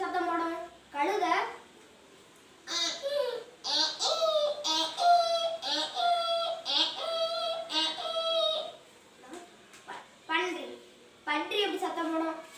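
A fourth-grade schoolboy at a primary school in Manguzhi imitates a braying donkey with a run of close, loud, strained hee-haw cries, starting and ending with short vocal bursts.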